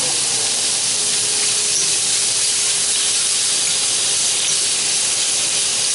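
Shrimp searing in a hot pan gives a steady, loud, broad sizzling hiss that holds without a break for the whole stretch, close up and with no voices over it.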